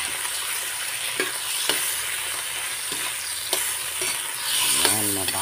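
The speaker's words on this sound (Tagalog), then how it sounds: "Lagay na natin ang ating isdang labahita. Gisahin lang natin ang mabuti yan guys." Dried labahita fish is sautéed in a hot pan, giving a steady close sizzle with a few stirring clinks and scrapes, and no talk.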